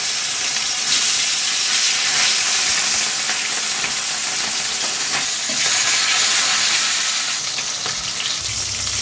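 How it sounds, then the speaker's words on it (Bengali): Close, continuous sizzling and spattering of fish pieces frying in hot oil for a yogurt fish curry, with occasional stirring scrapes throughout. "দই মাছে মাছটা ভাজতে দিই"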